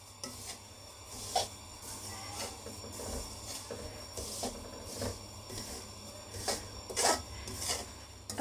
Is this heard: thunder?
no